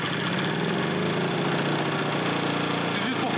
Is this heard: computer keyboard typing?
no